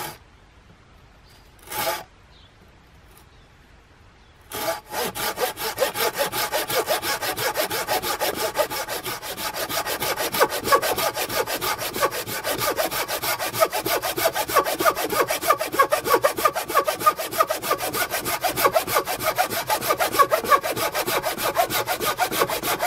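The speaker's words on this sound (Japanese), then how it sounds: "栗の枝で太さは大人の腕ぐらいの太さです。 ではこれを切り進めていきます。" A hand saw cuts through a chestnut branch about as thick as an adult's arm, with steady, rapid back-and-forth wooden rasping strokes that run loud and close for nearly twenty seconds after a couple of short preliminary scrapes.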